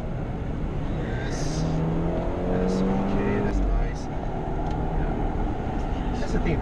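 A car driven fast around a race track on Goodyear Eagle F1 Asymmetric 3 tyres, its engine drone and tyre roar steady and close throughout, with someone talking over it.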